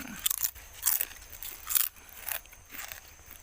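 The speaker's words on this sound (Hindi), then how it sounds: "अभी लेस खाएंगे, लेस।" Crunchy Lay's potato chips being bitten and chewed up close, with about five sharp, crackling crunches at a quick, uneven pace and no talking.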